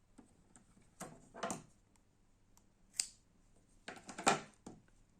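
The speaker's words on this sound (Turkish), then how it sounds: "Şöyle kalan uzun iplerimi de keseceğim." Scissors snip through leftover long strands of yarn after crocheting, a few short, crisp cuts spaced irregularly in a quiet room, alone with no talk.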